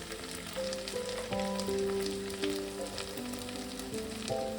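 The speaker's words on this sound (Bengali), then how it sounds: "এবার আমি একটা টমেটো দিয়ে দিলাম। টমেটো দিয়ে একটু নেড়ে নেব।" Tomato sizzles steadily in a hot pan as it is stirred in, for a prawn fritter curry; a continuous close frying hiss with soft scraping and a faint tonal hum beneath, no voices.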